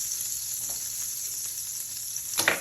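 Brisket sizzling steadily in a hot pan, a constant bright crackling hiss with a brief louder burst near the end.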